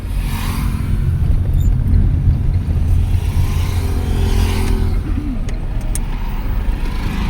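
A car engine drones loud and close inside the cabin during a driving lesson, holding a steady low rumble with only slight rises in revs.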